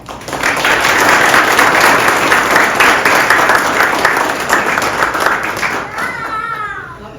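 A school audience at a retiree celebration breaks into full, even applause for a retiring staff member, loud and sustained before tapering off near the end as voices begin to rise.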